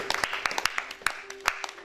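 A congregation claps during a French church service, a brief run of scattered, crisp hand claps with a faint voice underneath.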